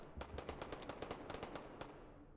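Rapid bursts of gunfire from the VR shooter game H3VR, about a dozen sharp cracks in quick, uneven succession, loud and close with no talking over them.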